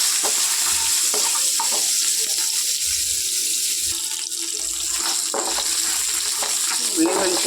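Shallots and garlic fry in a pan with dried chillies, a steady close sizzle with faint stirring and scrapes throughout, and no one talking.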